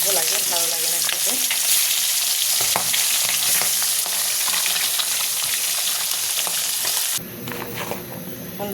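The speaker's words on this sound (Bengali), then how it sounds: "তেল গরম হয়ে গেছে, যেহেতু মুরগির মাংস রান্না করবো, তো মুরগিটাকে একটু হালকা ভেজে নেব" Chicken pieces fry in hot oil with a loud, dense, crackling sizzle that runs continuously, with scattered pops and spatters and a brief shift in tone near the end.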